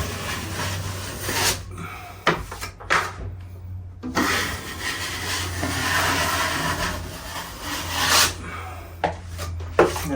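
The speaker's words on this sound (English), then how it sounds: "Just take any bits and then I just carefully, with my blade angled," Utility blade scraping and trimming the edge of a drywall plasterboard patch, with repeated close rasping strokes broken by brief pauses.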